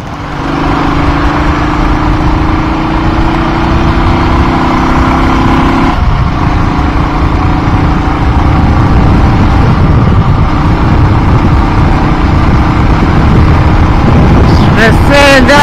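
A 2006 Royal Enfield Thunderbird AVL single-cylinder engine revs loudly and close through its silencer, a continuous throaty drone whose pitch shifts partway through, with some wind buffeting on the microphone.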